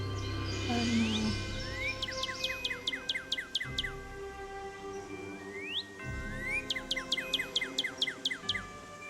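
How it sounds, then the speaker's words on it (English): A northern cardinal's song plays from a recording: two bright, rising whistles followed each time by a quick series of clear, descending chirps, repeated twice over a soft background hum. "Northern cardinal."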